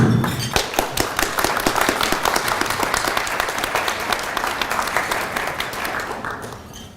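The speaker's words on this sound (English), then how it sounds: "I think we should give them a round of applause" An audience at a meeting on cage aquaculture in Georgian Bay gives a sustained round of applause, dense clapping that holds steady for several seconds before slowly thinning out.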